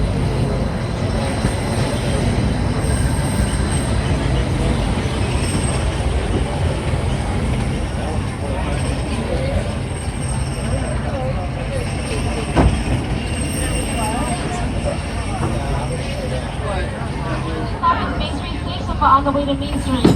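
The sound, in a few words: Disneyland Railroad train running on rails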